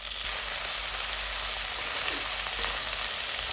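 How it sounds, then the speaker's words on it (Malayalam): Chopped long beans tumble into a pan of frying shallots, giving a steady, close sizzle with a faint crackle that holds across the whole moment and carries no voices. "നമുക്ക് അരിഞ്ഞു വെച്ചേക്കുന്ന നമ്മുടെ അച്ചിങ്ങ പയറൊന്ന് ചേർത്ത് കൊടുക്കാം."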